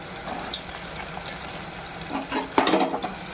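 Onion pieces and cumin fry in a pan for mutton curry, a soft steady sizzle with brief stirring scrapes and a louder rattle toward the end, with no talk.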